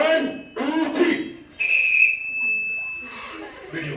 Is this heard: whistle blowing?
yes